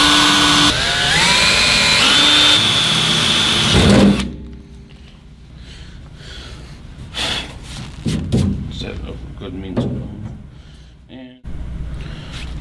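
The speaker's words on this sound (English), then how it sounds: "now we have the holes drilled for the transformer" A power drill with a 1/8 inch bit whines steadily for about four seconds drilling holes, then cuts out, leaving workshop clatter and handling noise.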